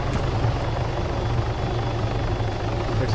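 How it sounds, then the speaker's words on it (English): A Chinook helicopter lands in a driving simulator video game, its steady rotor thump and engine drone loud and continuous throughout, with no talk over it. "Chinook is landing."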